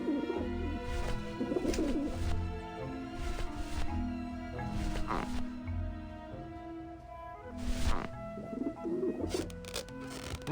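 Flock of pigeons cooing in Grim Fandango Remastered, soft repeated throaty coos scattered over a background of musical tones, with occasional rustling and no speech.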